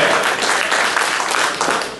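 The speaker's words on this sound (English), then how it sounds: "Let's give our great State Senator Marty Golden a nice round of applause" Audience applause honoring State Senator Marty Golden at a special election campaign rally, a dense, steady wash of clapping that holds loud and even for the full span before easing slightly at the end.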